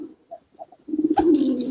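Pigeons coo in a soft low burst, a few brief murmurs at first and then a louder sustained rolling coo, close by with no talk.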